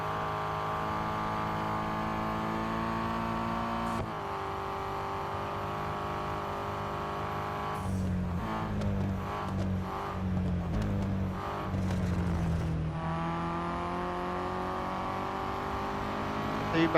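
Race cars in the mobile racing game Real Racing 3 drone steadily as they close on and overtake slower back markers, the engine tone rising and shifting through a busier stretch midway, loud and continuous throughout.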